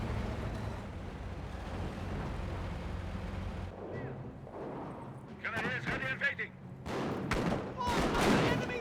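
Battlefield explosions and gunfire rumble in Company of Heroes, Wehrmacht against British forces, a dense low roar of artillery and shooting that gives way to sharper bursts and blasts later, with a voice talking over parts.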